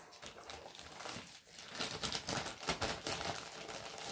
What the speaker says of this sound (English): I'm just going to open the bag with scissors and then take the sprues out